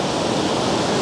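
Black Sea waves breaking on a beach after a storm: a steady, loud, close wash of surf with no pause, no voices.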